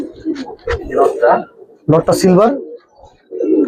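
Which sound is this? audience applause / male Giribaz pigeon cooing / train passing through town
male Giribaz pigeon cooing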